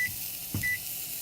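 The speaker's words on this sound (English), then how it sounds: "Set a timer for 2 minutes." A kitchen timer gives two short, clear electronic beeps about half a second apart as it is set beside a pan of searing ahi tuna, with soft kitchen thumps in between.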